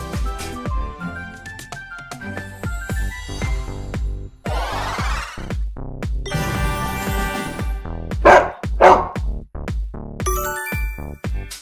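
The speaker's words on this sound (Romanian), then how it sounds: "Este un câine." A cartoon dog barks in a few short yaps over bright, jingly children's music, with chimes and tinkling tones around it.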